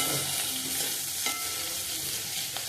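Mixed vegetables for fried rice stir-frying over a high gas flame, an even hiss of sizzling with a few light clicks of the spatula against the pan.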